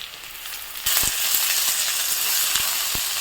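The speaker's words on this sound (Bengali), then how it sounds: "ভালো করে নেড়ে চেড়ে ভেজে নেব।" Chopped onion, green chili and tomato stir-fried in a pan, a steady close sizzle that jumps louder partway through as the tomato goes in, with occasional scrape clicks of the spatula.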